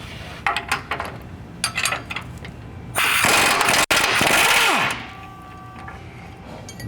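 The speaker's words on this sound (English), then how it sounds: "We've got a 24 millimeter wrench and a 21 millimeter socket." Wrench and 21 mm socket working on lower control arm bolts of a 2020+ GM 2500 during a lift kit install: metallic clinks and rattles, then a sustained loud grinding ratchet burst of about two seconds, near and without talk.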